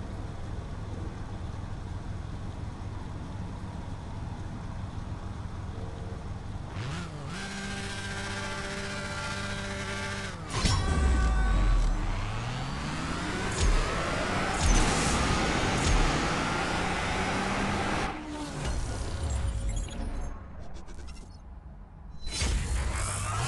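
An Aston Martin Valhalla drag race in the CSR Racing 2 mobile game, with a steady engine drone that rises through several gear shifts and then swells into a louder, roaring run before cutting out near the end.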